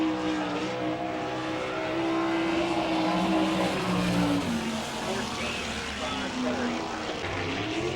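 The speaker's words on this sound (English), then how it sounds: "On the speedway right now, he drives the 63W out of Ben Ridge, Ohio, Mr. Mr. Greg Wilson." Sprint race cars at the Wichita, Kansas speedway during an NCRA All Stars event, engines droning steadily and continuously through the whole stretch, loud and sustained, with a track announcer talking over the noise.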